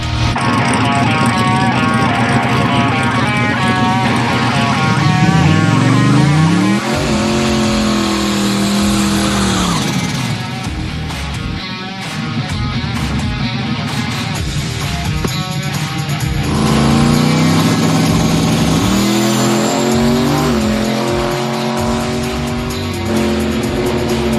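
A hot rod race car making a drag strip pass, its loud engine roaring and revving through repeated gear changes with rising and falling pitch, sustained and close for over twenty seconds.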